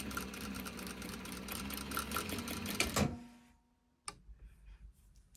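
A sewing machine stitches over the folded edge of a fabric cuff in a steady, rapid mechanical chatter for about three seconds, then winds down and stops, followed by a single brief click.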